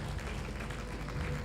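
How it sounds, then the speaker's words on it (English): A conference hall audience at a renewable energy event applauds, a dense and steady wash of many hands clapping at close range that holds for the whole moment. "Let's clap for Engineer Seboa."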